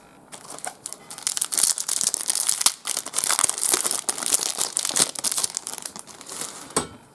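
A Star Trek CCG booster pack wrapper is torn open and handled up close, giving loud crinkling and crackling foil plastic with sharp tearing bursts in uneven, continuous rustling.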